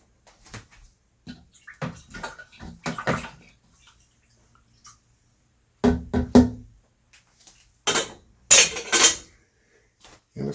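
Mango wine must stirred in a one-gallon vessel, irregular sloshing swirls and clinks of a utensil against the container coming in short bursts separated by quiet gaps, close and fairly loud.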